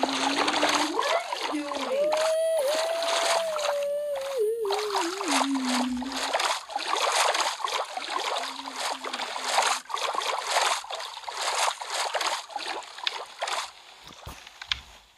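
A boat moves through water in Minecraft, continuous splashing and rushing water close up, while a voice talks and sings over it.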